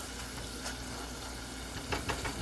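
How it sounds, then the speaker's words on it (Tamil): Tomatoes sautéing in a covered pan for mushroom gravy, a steady soft sizzle and crackle at low level, with a few louder spits near the end. "அங்கே தக்காளி வதங்கிட்டுருக்கு"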